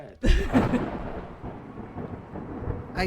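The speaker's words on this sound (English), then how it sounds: "Oh wait, thunderclap" A thunderclap in a video game: a sudden loud crack and rumble at the start that settles into a long, steady rolling noise like rain, with a faint second burst at the end and no talking.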